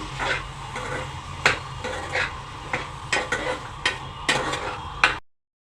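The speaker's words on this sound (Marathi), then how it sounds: "त्यात या सुरणाच्या फोडी केलेल्या त्या घाला मिक्स करा" Spoon stirring elephant foot yam pieces into masala in a pan, giving steady scraping with sharp clinks against the metal under a soft frying hiss, close up and without talk, stopping abruptly at the end.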